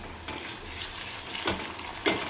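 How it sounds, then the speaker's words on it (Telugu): Ginger garlic paste fries in a pan with oil, giving a low crackling sizzle broken by a few louder bursts of stirring scrapes, with no voices. "మంచిగా ఫ్రై అవ్వనిద్దాం."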